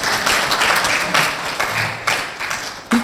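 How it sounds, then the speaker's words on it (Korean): A church audience at a missions forum breaks into brief, lively applause, dense overlapping claps with a few louder hand strikes standing out, and no voices over it. "이럴 때 박수를 좀 쳐요."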